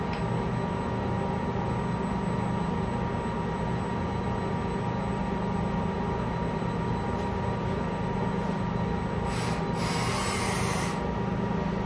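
A Lincoln Electric welding cobot runs through its straight-weld program with the arc off, giving a steady mechanical whir and rubbing drone with a brief brighter burst near the end and no talking.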